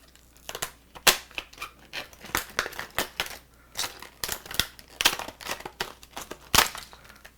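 A freshly sharpened knife slices across material, making close, crisp crackling cuts and tearing snips in an irregular series of strokes, with a few louder sharp bursts.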